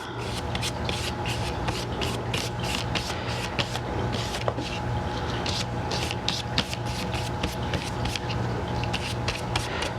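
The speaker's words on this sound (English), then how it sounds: "Just dry brushing it on." A paintbrush is dry-brushed onto cardboard in a craft session, quick repeated scratchy rubbing strokes close to the microphone in an uneven rhythm, with a faint low hum underneath.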